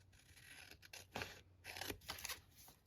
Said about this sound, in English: So I'm going to cut off these ends of the sticker.